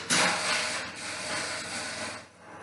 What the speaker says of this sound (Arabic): الصوت اللي ظهر دلوقتي ده صوت الجنزير مع الكشمه الاماميه